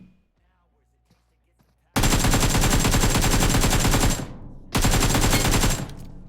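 Bursts of rapid automatic gunfire ring out in a PUBG Mobile match: a long, loud, dense volley and then a second burst after a brief gap, following a quiet stretch at the start, with no talk.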